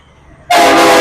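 A horn sound effect blares suddenly after a moment of near silence, a single loud sustained honk resembling a train horn that holds steady to the end.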